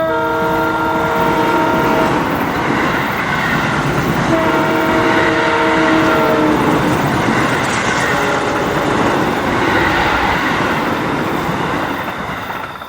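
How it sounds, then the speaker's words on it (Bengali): At night, the last local train passes a small station with a loud, continuous rumble and rattle, its horn sounding in repeated long tones over the steady roll of the wheels. "সামনে দিয়ে রাতের শেষ লোকাল ট্রেনটা বেরিয়ে গেল।"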